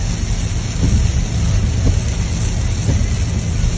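Loud, dense rainfall pours down continuously, a thick steady roar with a low rumbling undertone and no pauses.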